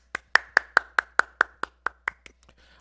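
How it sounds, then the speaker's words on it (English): About a dozen distinct, evenly spaced hand claps ring out sharply in a quiet room, each crisp and close, thinning and fading toward the end like one or two people clapping alone. "So once again, a round of applause."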